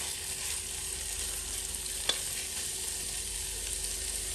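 Bone-in chicken for Pallipalayam frying uncovered in a pan, a soft steady sizzle with one sharp clink of the spatula partway through as the pieces are tossed, and no one speaking.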